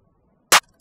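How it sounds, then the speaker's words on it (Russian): Programmed hi-hat in FL Studio: two short, crisp electronic ticks, the first louder and longer, the second a quick lighter tap, dry and isolated against silence. "Так много времени потратил на этот замечательный хай-хэт."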